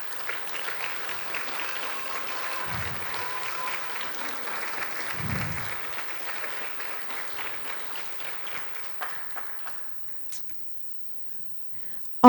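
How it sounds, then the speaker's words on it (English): Audience applause at a university induction ceremony for the Class of 2024, sustained steady clapping from a large crowd in a hall, fading out after about ten seconds. "the families wouldn't mind standing so that your students can give them a round of applause"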